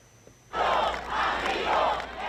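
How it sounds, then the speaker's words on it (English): A crowd chanting in unison at a rally for Venezuelan President Nicolas Maduro, a loud rhythmic mass of voices that starts abruptly and rises and falls in repeated phrases. "The crowd is chanting"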